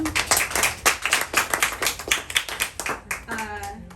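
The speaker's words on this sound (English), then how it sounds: "a round of applause for Elora." An audience at a youth poetry reading claps steadily for a few seconds, a dense patter of hands that fades out near the end, with a brief voice rising at the close.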